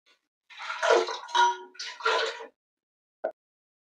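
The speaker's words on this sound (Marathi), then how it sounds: "इथे आपण गरजेनुसार पाणी घालणार आहे।" Water poured into chicken curry in a pan, several short splashing gushes in quick succession, then silence and a single small drip-like plop.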